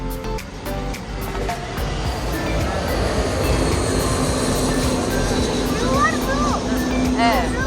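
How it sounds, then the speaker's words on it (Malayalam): A train rumbles past nearby with a steady, loud low roar and rattling wagons, a voice calling out briefly over the noise near the end. "അത് ട്രെയിനും പോണ്."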